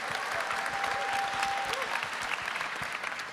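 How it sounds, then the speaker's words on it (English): An audience claps at a Star Wars Zero Company panel, producing dense sustained applause that fades slightly toward the end. "A round of applause."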